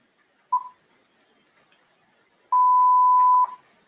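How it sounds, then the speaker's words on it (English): An epic trailer countdown timer effect sounds one short electronic beep, then after a pause a longer sustained beep tone, clean and alone against silence. "it's the epic trailer, like it's kind of like a countdown timer"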